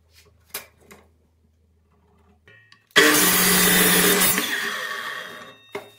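A miter saw cuts a wooden piece for a gate frame: after a few faint clicks, the motor kicks in with a loud, steady whine for about a second and a half, then winds down.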